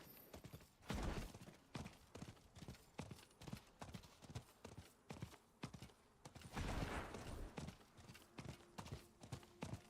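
Rhythmic hoofbeats of a fire horse mount in the video game Diablo IV, a steady clip-clop gallop close and clear, with brief heavier impact bursts partway through.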